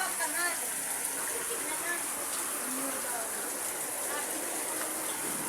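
Floodwater rushing with a strong current makes a continuous broadband roar throughout, steady and fairly close.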